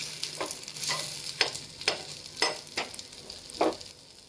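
Dosa batter roasting on a hot pan over a low-to-medium flame, giving a soft steady sizzle broken by several light, brief scraping or tapping strokes, close by with no talking.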